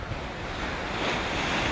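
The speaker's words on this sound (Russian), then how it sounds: "И не такие большие волны." Ocean waves at sunset on a Sri Lankan shore wash in a steady, continuous roar of surf, with wind buffeting the microphone throughout and no talking.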